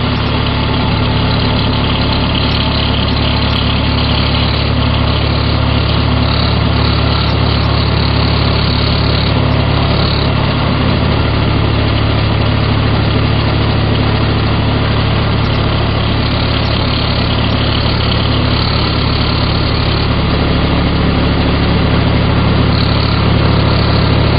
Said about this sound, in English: now we're going to take it over here and touch it up real quick on the 80 grit disc